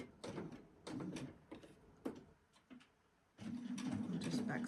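A sewing machine stitches a jelly roll rug in short bursts of rapid mechanical chatter, stopping and starting, then settling into a steadier run near the end.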